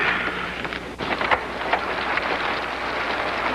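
A steady, hissing downpour of rain with a soft patter, continuous and fairly close, with no voices.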